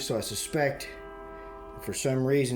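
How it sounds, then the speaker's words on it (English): A train horn sounds as one long, steady, loud blast held for over a second, set between bursts of a man's speech. "sorry for the train horn"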